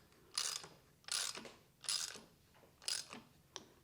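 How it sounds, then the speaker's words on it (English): Hand ratchet tightening a Power-Pole propeller nut, four quick bursts of clicking spaced about a second apart, then a short final click, close and fairly quiet. "go ahead and finish it off with the ratchet"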